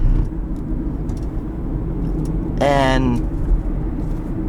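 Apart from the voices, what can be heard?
2018 Hyundai Ioniq accelerating in sport mode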